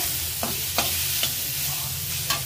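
A spice mix sizzles in a pan as it is stirred, with a constant fry hiss and several distinct scraping strokes at regular intervals, close and fairly loud.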